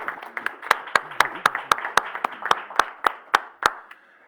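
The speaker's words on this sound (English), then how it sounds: "A round of applause for the FPB" Hands clap in a steady, evenly spaced beat at a report launch event, sharp distinct claps rather than a dense crowd roar, with a voice talking underneath.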